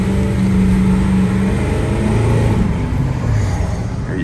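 A 2008 Ford F450 King Ranch dually pickup with a 6.4L diesel pulls away under steady acceleration, a deep, continuous engine drone heard from inside the cab with a low tone that shifts as it builds speed.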